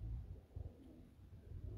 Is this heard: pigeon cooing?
yes